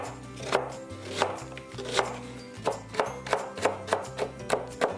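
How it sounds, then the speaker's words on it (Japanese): A knife coarsely chopping onion on a cutting board, a series of crisp, fairly close chops that come irregularly at first and then speed into a steady rhythm, with no talking. "玉ねぎは粗めのみじん切りにしておきましょう。"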